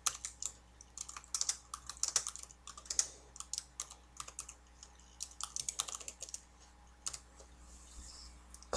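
Typing on a computer keyboard, a quick run of close, light key clicks in uneven bursts with short pauses, alone in a quiet room.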